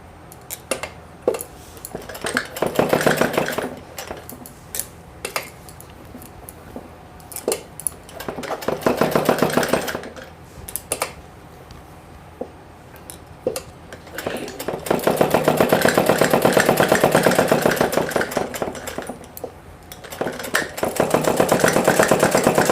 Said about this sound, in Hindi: तो यहाँ पर भी मैं सिलाई लगा दूँगी